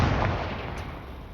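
A Confringo blasting spell explodes in Hogwarts Legacy with a loud, deep boom that rolls on as a broad, rumbling roar, fading only slightly over a second and a half.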